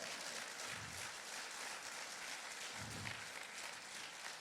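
A church congregation applauding, a dense, even wash of clapping that holds steady for several seconds, soft and somewhat distant.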